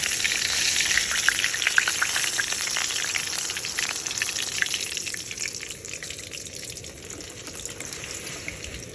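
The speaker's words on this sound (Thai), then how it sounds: "นำปลาทูลงไปทอดนะคะ วันนี้ใช้ปลาทู2ตัวค่ะ" Two mackerel sizzle and crackle steadily in hot oil, a close, continuous frying hiss that eases slightly toward the end.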